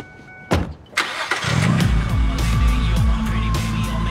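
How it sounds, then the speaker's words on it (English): A McLaren 650S Spider engine fires up after two sharp clicks, then settles into a loud, throaty idle with bursts of revving, close by and dominant. "A McLaren 650S Spider."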